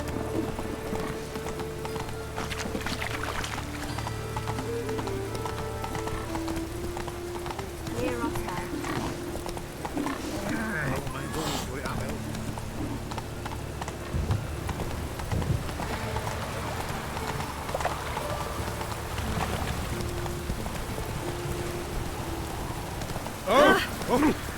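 In The Witcher 3, the horse Roach clip-clops along at a steady rhythmic pace amid falling rain, with game voices speaking over the hoofbeats throughout.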